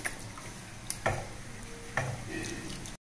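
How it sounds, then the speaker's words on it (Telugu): Corn flour paste being stirred into milk in a pot, a spoon scraping and tapping the sides a few times over a soft bubbling hiss, close up, before the sound cuts off abruptly. "We have to stir it when we are adding this corn flour paste into this milk."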